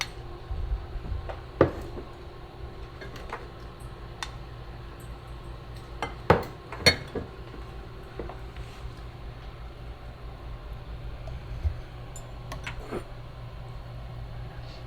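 Italian chicken and noodles are ladled from a crock pot into a bowl, making sparse clinks and taps of a utensil against ceramic over quiet room tone, with a few sharper knocks spread across the stretch.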